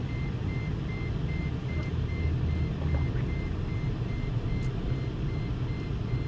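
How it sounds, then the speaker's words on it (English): A car gives off a steady, repeating electronic beep at an even rhythm, faint and constant, over a continuous low rumbling background with no talk. "But the beeping, constant beeping is just..."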